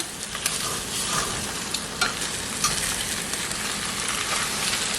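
Eggs and tortilla strips for migas fry in a pan over lowered heat, giving a continuous close sizzle with faint scraping stirs and small pops throughout, and no talking.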